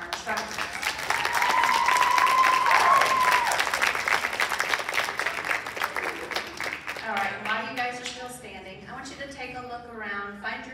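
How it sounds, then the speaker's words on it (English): At a 2024 Charter College Wenatchee graduation ceremony, the crowd bursts into loud, sustained applause with a cheer rising through it. The clapping fades after several seconds as a voice begins speaking over the hall. "So let's give her a round of applause, our instructor."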